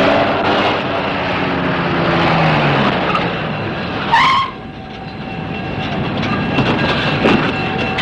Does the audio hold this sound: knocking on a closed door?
no